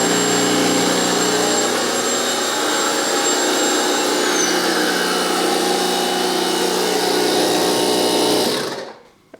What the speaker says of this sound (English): The vacuum is on.